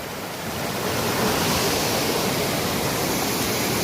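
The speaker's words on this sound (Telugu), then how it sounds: "వాటర్ ఫ్లో అయితే మస్తు ఉందబ్బా" Kalu waterfall in Malshej Ghat, Maharashtra, rushing with heavy flow, a dense unbroken roar of falling water, loud and close throughout.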